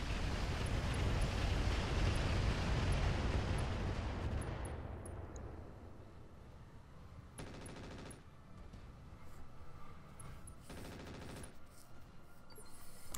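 Weapon fire in the mech game Roguetech aimed at a Hunchback mech: a dense, roaring barrage dominates the first few seconds and then fades, followed by two shorter rattling bursts of rapid fire at moderate distance.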